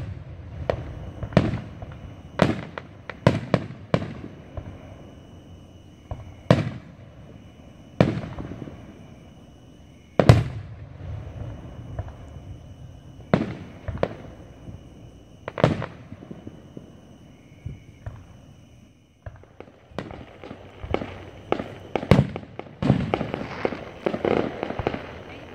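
Fourth of July fireworks burst at the driveway edge in Gentry, Arkansas, sharp cracks and booms spaced irregularly, some loud and close, others distant, with crackling tails over a quiet night and no talking.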